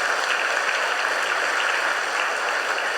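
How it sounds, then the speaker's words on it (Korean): A church congregation at a Sunday service applauds warmly, even steady clapping from many people filling the hall at a consistent level. "우리 뜨거운 박수로."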